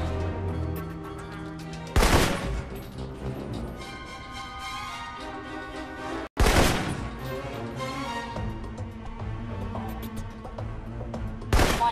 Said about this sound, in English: For long-range encounters, the assault rifle's the key. It's accurate. Powerful. Just be sure to line up your shots carefully.